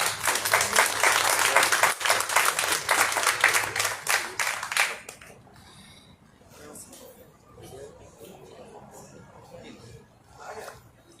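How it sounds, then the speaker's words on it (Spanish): An audience at the opening of a José Venturelli art exhibition bursts into dense applause for about five seconds, then it stops and quieter voices and chatter continue. "Un aplauso para ustedes."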